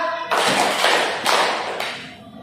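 A classroom of students claps a counted hand-clap pattern, producing three loud bursts of massed clapping in quick succession over a noisy room.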